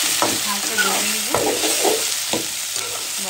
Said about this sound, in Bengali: আলু দিয়ে দিলাম একসাথে ভেজে নেব, হালকা ভেজে নেব, বেশি ভাজবো না।